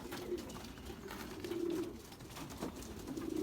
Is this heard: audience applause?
no